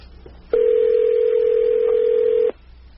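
A steady telephone tone sounds loud and clear for about two seconds before cutting off abruptly, with quiet room noise before and after.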